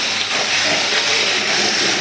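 Marinated mutton sautés in hot oil in a pan, giving a loud, steady, close-up sizzling hiss that stays constant for the whole short stretch, with no voices.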